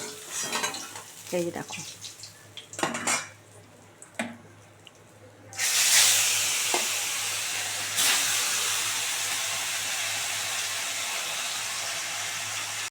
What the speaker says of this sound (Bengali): আরও 2 পিস মাছ ভালো করে ভেজে নেব